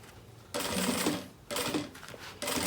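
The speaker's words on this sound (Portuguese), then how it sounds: "Eu dobro bem aqui e passo a costura agora aqui" A sewing machine stitches a folded silicone beach bag in three short, close bursts of rapid mechanical chatter separated by brief pauses.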